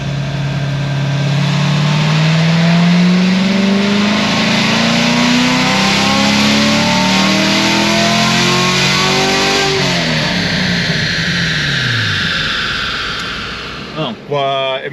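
LT1 C7 Grand Sport Corvette on a dyno pull with a naturally aspirated engine on E-blend fuel, roaring loudly as revs climb steadily, then dropping off sharply, with a clunk near the end.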